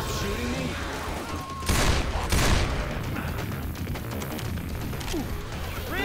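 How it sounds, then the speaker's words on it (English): Dense, continuous gunfire in the zombie co-op video game Left 4 Dead 2, with two louder bursts standing out from a steady rattle of shots. "Can you stop shooting me?"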